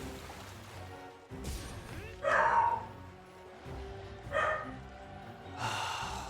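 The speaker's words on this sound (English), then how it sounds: "Do you guys hear my dog?" A pet dog barks somewhere in the house in a few short, sharp bursts spaced apart, partly muffled and at moderate distance, with some background noise between them.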